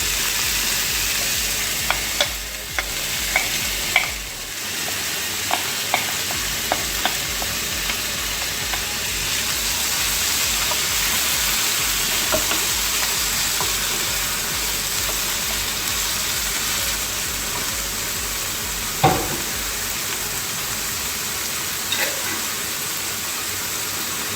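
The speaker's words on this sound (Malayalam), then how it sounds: "ഇതിനകത്തേക്ക് നമ്മൾ മിക്സ് വെജിറ്റബിൾ ഇട്ടൊന്ന് വഴറ്റാം." Mixed vegetables sauté in a pan for a shepherd's pie, giving a steady, close sizzle with occasional stirring scrapes and clinks over roughly 24 seconds, and no one talks.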